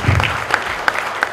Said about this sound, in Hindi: जरा मधु जी के लिए जोरदार ताली बजाइए प्लीज